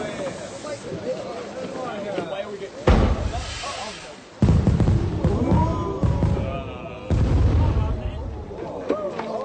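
Fireworks bang repeatedly at an outdoor display, sharp loud bursts recurring every couple of seconds with crackling and hiss between them, crowd noise and voices underneath.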